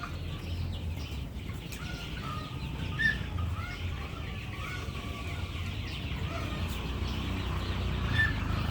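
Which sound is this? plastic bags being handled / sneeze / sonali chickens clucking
sonali chickens clucking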